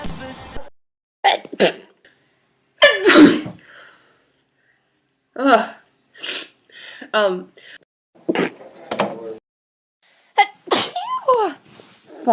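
Several sneezes burst out one after another at close range, some sharp and some drawn out, with short bits of talk and reactions between them.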